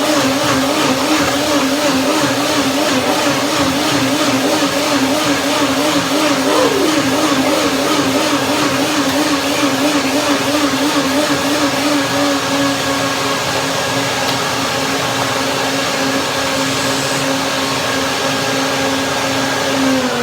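A blender runs continuously at high speed on chia seed pudding with cashews, dates, pomegranate and papaya, giving a loud steady whine whose pitch wavers and then settles into an even tone.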